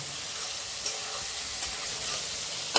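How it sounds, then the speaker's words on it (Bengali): Eggplant, called mourol, fries in hot oil before red leafy greens (lal shak) go in, giving a steady soft sizzle close by with a few light stirring clicks and no talking. "এবার এই বেগুনটাকে একটু ভেজে নিয়ে তারপরে শাকটা দিলাম।"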